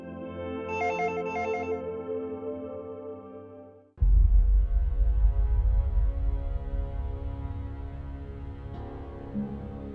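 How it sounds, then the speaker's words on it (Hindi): A phone ringtone in a Pakistani drama scene plays a repeating melodic electronic ring, loud and close, for about four seconds, then cuts abruptly to loud dramatic background music. "इस वक्त किसका फोन आ गया?"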